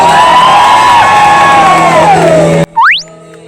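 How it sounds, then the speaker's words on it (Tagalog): A large crowd at a religious gathering shouts and cheers loudly and continuously, sustained voices blending together, then cutting off abruptly near the end. "Gusto ko po marinig ang sigaw ng mga anak ni Diyos."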